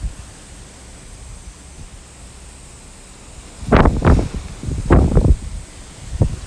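Gusty wind buffets a small balcony garden with tomato plants, rising in several loud bursts of microphone-rumbling gusts over a steady low rush of air.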